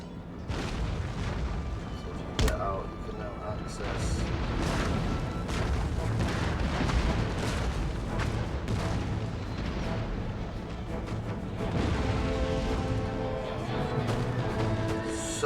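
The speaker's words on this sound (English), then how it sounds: "so many artillery" Artillery barrages in the Empire Total War strategy game, with repeated booms and rumbling blasts layered over continuous battle noise, steady and dense throughout with a sharp crack near the start.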